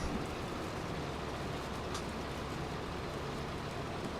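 Steady rain falls in the Farming Simulator 25 video game, a quiet, even hiss that holds without break throughout, with no voices.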